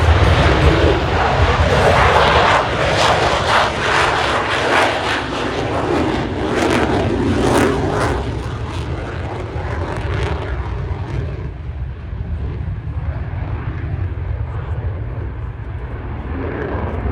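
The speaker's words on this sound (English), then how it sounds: "get ready as Exotic is now turning inbound for the high Alpha Pass" An F-35 Lightning II fighter jet at the Sun 'n Fun 2025 air show makes a loud, sustained engine roar. The rumble fades slightly as it passes, with no voices over it.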